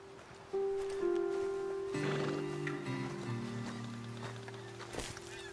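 Horses in the video game Red Dead Redemption 2 on a ledge above a road, heard as a loud nearby whinny and snorting with tonal vocal layers over steady outdoor ambience, plus a thump near the end.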